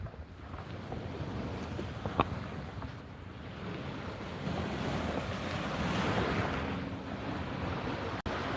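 Ocean waves washing ashore at a Fort Lauderdale beach, a steady continuous surf roar mixed with wind buffeting the microphone, swelling slightly midway, with no voices.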